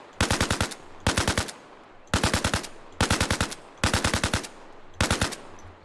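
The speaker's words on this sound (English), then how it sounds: "Imagine not having your AK set to full auto by default." AK rifle firing full auto in the ArmA Reforger video game, six rapid bursts of about five shots each, evenly spaced and loud with no talk.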